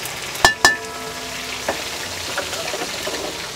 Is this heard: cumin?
yes